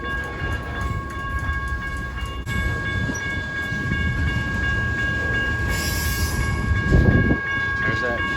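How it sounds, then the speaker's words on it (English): A long freight train rolls past on the Hannibal Sub at Sublette Avenue, its heavy steady rumble and wheel noise filling the scene up close, with a brief surge in loudness near the end. "Man, this train is long."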